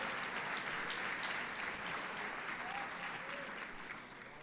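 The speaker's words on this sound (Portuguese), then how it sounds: "Dá uma salva de palmas para o Rei da Glória" A church congregation gives a long burst of dense applause during a prayer service, sustained and even before easing off slightly at the end.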